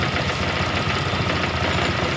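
A scooter engine idles with its rear wheel still spinning, a loud, steady, close mechanical hum with a fast regular pulsing throb throughout and no talking.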